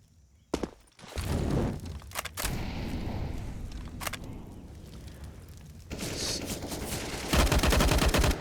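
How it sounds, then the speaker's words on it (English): Rapid gunfire bursts in a competitive Counter-Strike: Global Offensive ESEA match, sharp loud volleys with footsteps and movement between them, building to a dense, sustained barrage at the end. "Snowman firing"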